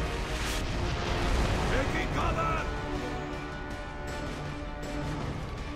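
Mortar artillery fire in Gears of War: Judgment rumbles as a dense, continuous barrage of booms and blasts, steady and loud throughout with distant impacts layered under occasional speech.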